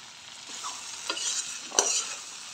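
A potato and drumstick curry with tomato is stir-fried over a raised flame, with a soft sizzle under several distinct scraping strokes of a spatula against the pan.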